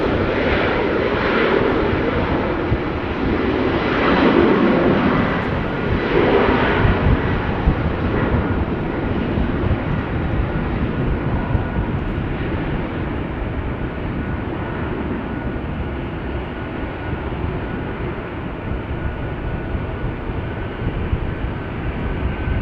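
An Air France airliner at Amsterdam Schiphol Airport produces a continuous, loud jet roar that holds steady for over twenty seconds, with a slight swell early on and no voices.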